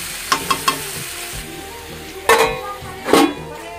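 Meat sautés on a lowered flame in a pan, three quick light spatula taps followed by two heavier scraping stirs over a steady low sizzle, close by and without speech.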